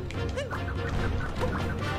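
A chick in the video game Super Mario Odyssey clucks and peeps in quick fowl-like bursts, close and fairly loud over a light game background.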